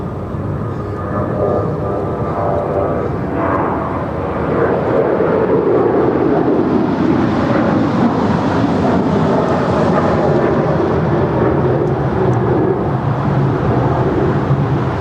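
An airliner bound for Paris taking off on runway 24 left at Los Angeles International Airport, a broad distant jet roar that swells and shifts in pitch as it rolls down the runway, steady and unbroken.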